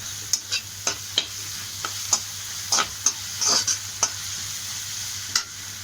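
Food sautéing in a pan, a continuous sizzle broken by rhythmic scraping strokes of a spatula, close and moderately loud, with no talking.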